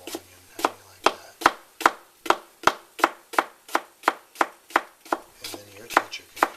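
A whole onion is chopped with a heavy knife on a board, about sixteen crisp, evenly spaced thuds in a steady rhythm, close and distinct over a faint low hum.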